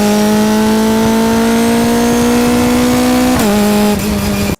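Race car with a 2.5-liter naturally aspirated four-cylinder engine, 343 horsepower, sending power through a six-speed sequential gearbox, holds a loud, steady high rev, then shifts with a brief dip before cutting off sharply.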